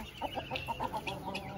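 A rooster and ducks squabble close by, a rapid series of about ten harsh clucks and quacks in a tight irregular rhythm, loud and clear with no talk.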